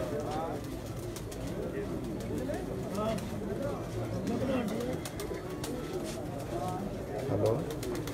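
Pakistani racing pigeons coo in a continuous low, rolling chorus from close by, with faint voices murmuring underneath at moments.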